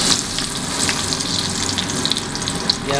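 Sliced onions hitting hot ghee in a wok for Punjabi dal, a steady close hissing sizzle with fine crackles that holds evenly throughout.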